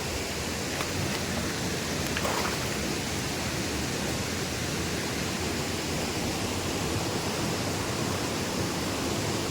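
Water pouring steadily at a big waterfall near a Shiva temple in Tentulikhunti block, a dense, even broadband roar that holds constant and close throughout, with no voices over it.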